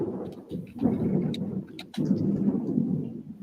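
Thunder from a storm outside rumbles in low, rolling swells with a brief pause midway, moderately loud and a little distant, with sharp crackles on top and no talking.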